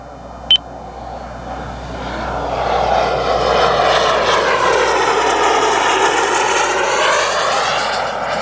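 An F-100 jet model aircraft makes a show pass at medium height and half throttle, its engine rising from a distant whine into a steady, loud roar that sweeps across and holds, with a brief beep near the start.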